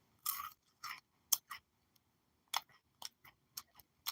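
Crunchy Snyder's of Hanover snack being chewed up close, a series of sharp crisp bites and crunches in irregular bursts with short quiet gaps between them.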